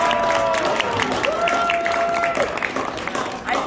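Restaurant audience at the Mammoth Restaurant clapping and cheering for Kristen on the flute, a thick wash of applause with whoops and whistles rising over it, fairly loud and sustained.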